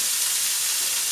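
Food sautéing in a pan gives a steady, bright sizzling hiss throughout, even and unbroken, with no other sounds.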